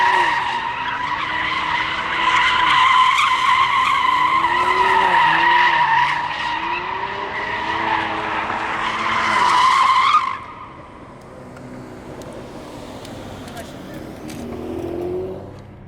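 A car spins around a pole, its tires squealing and skidding for about ten seconds, a loud sustained screech with engine noise, then cut off abruptly leaving quieter road noise.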